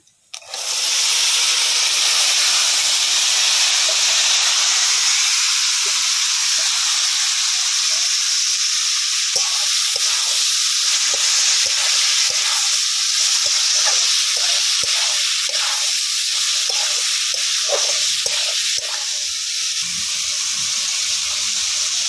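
Chana dal (split chickpeas), added with coconut to a hot pan, set off a loud, steady sizzle and frying hiss. It starts almost at once and holds evenly for about twenty seconds, close up and alone.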